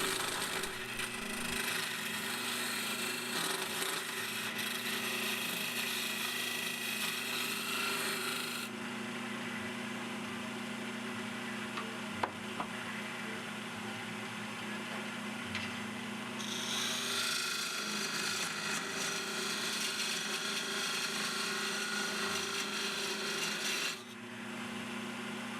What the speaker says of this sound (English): I use a skew chisel just to level it out and square up the end.